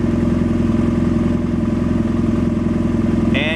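Motorcycle engine idling steadily and loud, fitted with a Dynojet PC-5 Autotune, with a quick rising throttle blip near the end.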